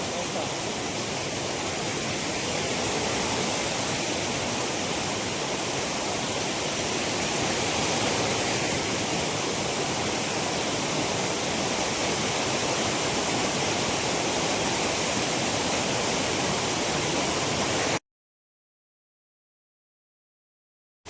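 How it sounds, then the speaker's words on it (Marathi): A village waterfall pours with a steady, dense rushing roar for about eighteen seconds without letting up, then cuts to silence. "आमच्या गावचा धबधबा."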